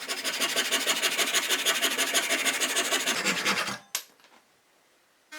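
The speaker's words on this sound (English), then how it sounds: "I sand and here I have the round mortise and tenon joint reinforced with a wooden wedge." A round wooden mortise and tenon joint reinforced with a wooden wedge is sanded with fast, even back-and-forth rasping strokes, loud and close. The sanding stops abruptly near the end, leaving near-silence.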